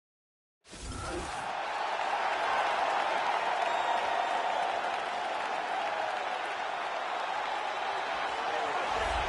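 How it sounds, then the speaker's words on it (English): Crowd at a UFC event in a video game cheering loudly as a fighter walks out to the octagon, a sustained roar with applause that rises sharply and holds steady. "the crowd pops as this guy makes the walk to the octagon"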